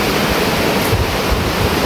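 Typhoon wind and heavy rain outdoors in Santa Rosa, Laguna, a loud, dense, unbroken roar of gusting wind and pouring water buffeting the microphone.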